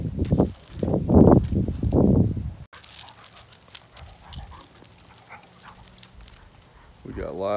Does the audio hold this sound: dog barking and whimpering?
yes